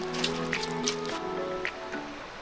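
A dog lapping water from a stream, with soft wet splashes and squishing laps close by over a steady outdoor wash of flowing water.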